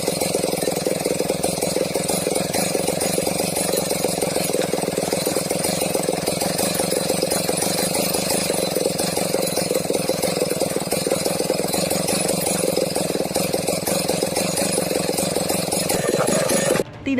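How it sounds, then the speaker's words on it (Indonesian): A chainsaw runs continuously while loggers cut into a large bangkirai tree, a loud, steady buzzing drone that holds for the whole stretch and cuts off abruptly at the very end. "sejumlah penebang berusaha menebang pohon yang diduga jenis pohon bangkirai menggunakan gergaji mesin"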